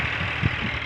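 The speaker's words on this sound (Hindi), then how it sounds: "इतना शोर होता है भाई ट्रैक्टर का।" A tractor ploughing a farm field gives a steady, loud mid-pitched engine drone with a brief heavier thump partway through, close by and with no talk over it.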